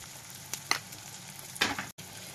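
Spices frying in a pan for a lote fish jhuri, with salt, turmeric, coriander and chilli powder being stirred; a faint low sizzle with a few brief scraping stirs.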